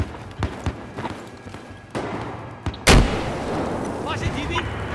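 Gunfire in the video game Battlefield 4: scattered sharp shots build to one loud, heavy blast, followed by a rumbling, busy battle din up close.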